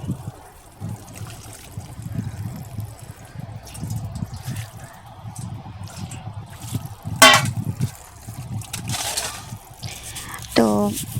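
Cold tap water runs over rinsed chow mein noodles draining in a basket, a steady close trickle and splash under a woman's speech, with brief louder bursts of water.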